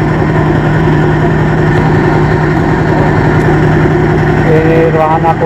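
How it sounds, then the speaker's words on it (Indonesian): Inside the engine room of a Juwana fishing boat, the engine runs with a loud, steady, close-up droning rumble that fills the whole stretch without pause. "Ini ruangan mesin perahu uler, pancing uler."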